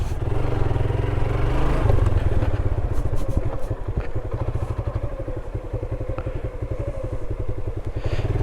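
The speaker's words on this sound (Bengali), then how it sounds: "বৃষ্টি হচ্ছে তারপরও আর কি বাইক রাইডিং করছি" A motorcycle ridden through the rain gives a loud, close, continuous engine rumble with a steady low throb and occasional clattering bumps for the whole stretch, with no talking.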